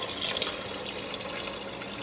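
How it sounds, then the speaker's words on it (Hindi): Water is poured into a pressure cooker while making nihari, a steady, hissing splash that runs continuously for about two seconds with no talk over it. "अब मैं इसमें पानी डाल दूँ। तो ये मैं इसमें 8 गिलास पानी जा रहा है इसमें।"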